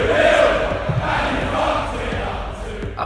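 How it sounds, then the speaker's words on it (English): A darts arena crowd roaring and chanting together, a loud, continuous mass of voices filling the hall with a rhythmic swell and no single speaker standing out. "The crowd started chanting."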